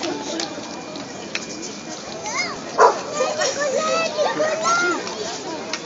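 A dog at a medieval festival gives a few short yips and whimpery barks amid a crowd, with several people talking nearby and some children's voices in the background.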